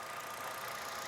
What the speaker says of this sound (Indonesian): Dan ini suara mesinnya